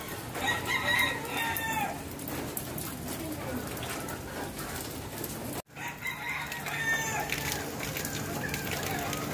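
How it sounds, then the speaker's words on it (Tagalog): Chickens cluck and a rooster crows repeatedly in a Philippine yard during a typhoon, fairly close, with people talking over them and a dog in the background. "Nag-iingay na yung manok"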